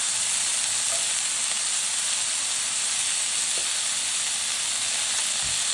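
Vegetables fry hard in a hot pan, a loud continuous sizzle and hiss with faint scraping as they are tossed, no voices over it.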